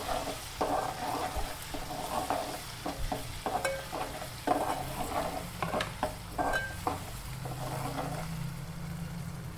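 Leaves fry in a hot pan for chicken pulusu with a steady close sizzle, broken by repeated scraping and clattering stirs throughout.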